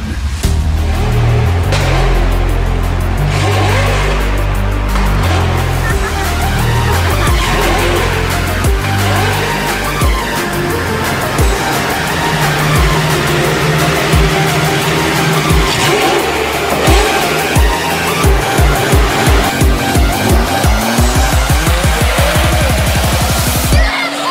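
Race cars and supercars roar past in a loud, continuous rush, engines revving and shifting with repeated sharp tire squeals and skids. The whole passage is dense and close, with no talking.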